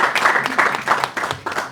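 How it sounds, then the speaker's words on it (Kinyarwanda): An audience claps in steady, dense applause for a gospel song at a Rwandan Christian concert. The clapping is loud, close and continuous, with no talk over it. "ibi bintu mwabihaye amashyi"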